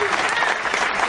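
Applause from a studio crowd on a radio comedy show, a brief dense burst of clapping heard up close and steady for about a second.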